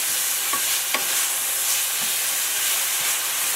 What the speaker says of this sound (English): I'm adding garlic to the dish now. That's 2 teaspoons of garlic. And I'm sauteing in here.